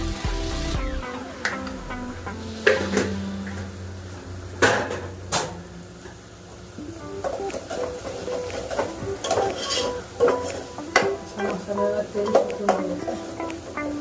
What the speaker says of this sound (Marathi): हा असं मसाल्याला तेल सुकून द्यायचं मसाला भाजतोय